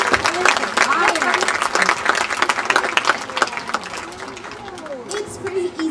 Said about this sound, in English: how about a hand for Rio, our brightly colored flyer